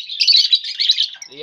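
Cobalt lovebirds chirp rapidly in a colony cage, a dense, loud, close stream of shrill tweets, ending with a brief low voice.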